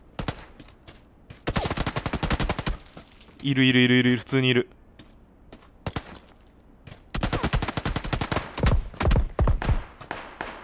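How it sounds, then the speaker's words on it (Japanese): Several loud bursts of rapid automatic gunfire from the mobile battle royale game PUBG Mobile crackle in quick succession, with a player talking excitedly between and over the shots. "やばい、撃たれてる、撃たれてる、撃たれてる。"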